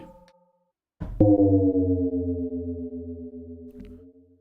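A sustained, slightly detuned synth bass note enters after a short pause and holds for about three seconds with a gentle wavering pulse, then shifts slightly before fading.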